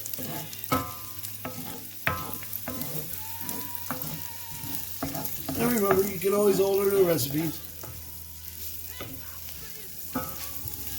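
Steady sizzling of sauerkraut frying in a pan with occasional stirring clanks, while someone talks over it.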